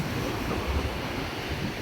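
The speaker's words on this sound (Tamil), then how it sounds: "இந்த தண்ணி கடல் வந்து கரையை நோக்கி வருது." Sea waves wash toward the shore on the coast at Jaffna, a continuous broadband rush with wind noise and no voices.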